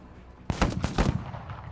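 Autocannon fire in a modded shooter video game, a sudden burst of several loud, rapid booming shots in quick succession, each with a ringing tail that fades into background noise.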